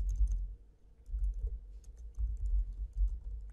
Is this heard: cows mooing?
no